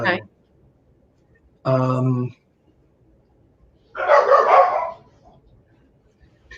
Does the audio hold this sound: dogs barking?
yes